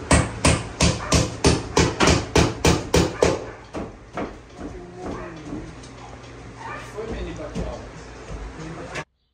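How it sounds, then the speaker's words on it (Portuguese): Nails are hammered into wooden ceiling lining boards on the rafters, with a fast, steady run of loud, close, ringing blows that then thin out into scattered knocks. People talk over the later part. "Conforme vai encaixando cada forrinho, a gente vai pregando e prega em todos os caibros."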